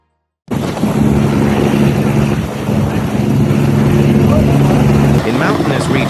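A helicopter flying, a loud, steady engine and rotor drone that starts abruptly and holds evenly throughout, with a voice talking over it.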